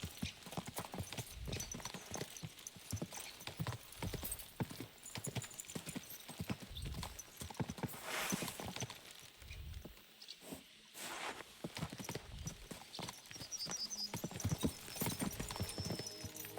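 Horse hooves clatter in quick, steady clip-clop rhythm through Kingdom Come: Deliverance 2, several horses pushed along at speed, with a busy wash of ambient game sound underneath.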